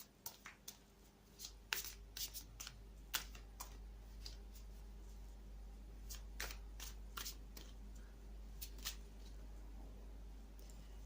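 A deck of cartomancy cards being shuffled by hand at close range, a quiet run of brisk riffles and soft snaps in irregular bursts over a low steady hum, with no talking.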